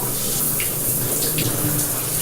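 Tap water runs steadily down a bathroom sink drain, a loud continuous splashing rush that fills the whole clip with no talk over it.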